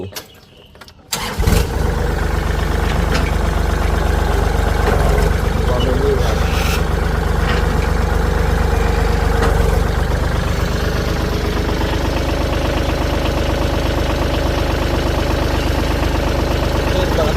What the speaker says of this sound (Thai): เดี๋ยวเราลองมาสตาร์ทฟังเสียงเครื่องยนต์ดู